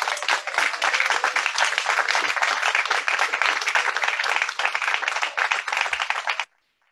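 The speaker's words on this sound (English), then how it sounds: "Can we rise up and give honor to the glory of Almighty God by clapping for Jesus?" A church congregation claps in praise during a worship service, giving a dense, continuous burst of many hands that stays loud and even for about six seconds before stopping abruptly.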